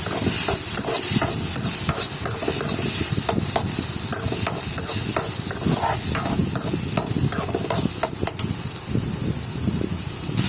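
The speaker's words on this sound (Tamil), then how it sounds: "தக்காளியை போட்டு வதக்கணும்." Small-cut tomato pieces are sautéed in a pan for rava kichadi, giving a loud, constant close sizzle with repeated scraping and clattering from stirring.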